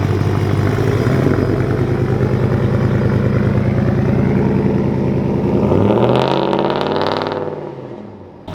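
A cammed 1995 Ford F-150 engine runs very loud and close with a choppy, lumpy idle, then revs up sharply near the end before dropping away.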